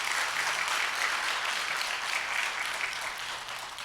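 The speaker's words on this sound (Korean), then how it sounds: "감사한 마음으로 여러분 박수 한번 해주세요." A congregation claps at a dawn worship service in a Korean church, a steady, dense round of applause that continues evenly and eases slightly near the end, with no speech over it.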